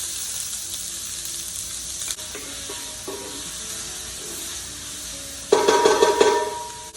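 Onions frying in hot oil in a pan for a tomato and poblano sauce: a steady, close hiss of sizzling that swells into a louder, busier crackle near the end.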